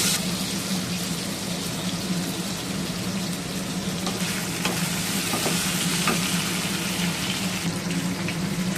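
Potatoes frying with cumin seeds in the oil left after frying rohu fish, a constant hissing sizzle with occasional crackles and stirring, loud and near without pause.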